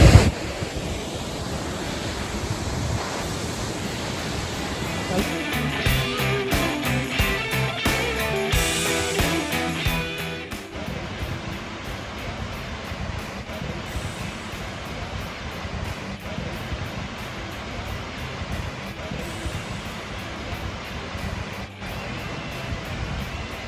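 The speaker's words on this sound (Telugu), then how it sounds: "వాటర్ ఫాల్స్ మీకు చూపిస్తాను ఎలా ఉన్నా చెప్పండి" A waterfall on a trekking route gives a steady, broad rushing roar of falling water that runs continuously and slightly louder in the first half, with no voices.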